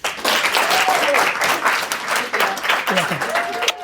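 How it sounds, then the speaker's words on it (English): An audience applauds for Gary Vaynerchuk as he is brought onto a stage, dense clapping building quickly and holding steady, with voices and a few calls mixed into the crowd noise. "please give me a huge round of applause for my friend Gary V."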